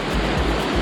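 Light surf rolling into a small, sheltered cove at Bravo Beach in Búzios, Brazil, heard as a steady, soft wash of water close by, with no talking.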